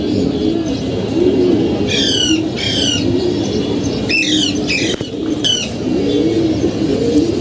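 Racing pigeons coo in soft rounded phrases repeating through the clip, while sharper bird chirps break in several times in short clustered bursts close by.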